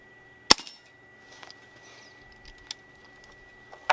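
An Evanix Viper X compact semi-automatic PCP air pistol fires on a range: a sharp crack, then a softer pop about a second later and another at the very end, with quiet pauses and faint clicks between shots.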